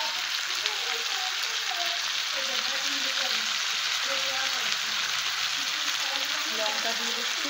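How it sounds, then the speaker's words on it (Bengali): Meat sizzles steadily as it is sautéed in a pan for biryani, a constant close frying hiss from start to finish. A person talks briefly over the cooking. "মাংস কষা হচ্ছে"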